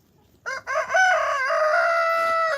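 Rooster crowing on a homestead, a single loud close crow with stuttering notes at the start, then a long held call against quiet surroundings.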